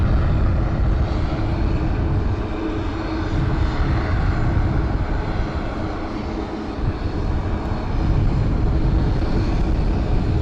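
A Flamenco Cargo airplane lands on the runway at San Juan's Luis Muñoz Marín International Airport. A loud, continuous engine roar with broadband rumble holds steady for the whole stretch, swelling slightly near the end.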